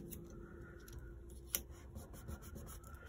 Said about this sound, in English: we're simply going to cut that through